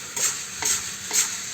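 Coffee beans are stirred in a pan while roasting traditionally, giving three rhythmic scraping sweeps over a steady sizzling crackle, close and fairly loud, with no voices.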